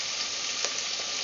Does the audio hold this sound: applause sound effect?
no